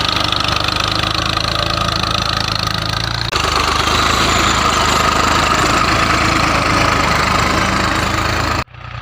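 A tractor engine runs loud and close in a field during wheat sowing, a steady mechanical drone with a slight shift partway through before it cuts off abruptly near the end.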